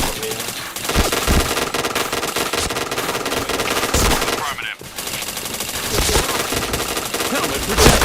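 Rapid automatic gunfire aimed at a helmet in the PointBlank shooter game, dense bursts of shots running almost continuously with a short break midway, while a voice talks over the shooting.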